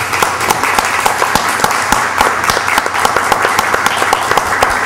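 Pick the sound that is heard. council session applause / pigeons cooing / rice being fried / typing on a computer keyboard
council session applause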